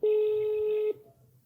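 A telephone dialing a call gives one steady electronic tone lasting just under a second, loud and clean, then drops to faint low murmuring.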